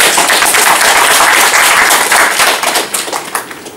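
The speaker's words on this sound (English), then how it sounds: "Big clap." A group at a Scrum meetup retrospective claps together in a dense, loud burst that stays steady before thinning into scattered claps near the end.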